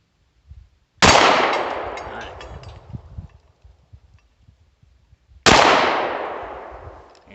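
Two loud, sharp shots from a Sccy DVG1 handgun, spaced several seconds apart, each followed by a long fading echo, with faint rustling and handling noises in between.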